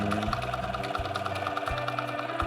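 A sewing machine stitches a quilting line in a rapid, even mechanical chatter, close and fairly quiet, with a few brief pauses in the rhythm.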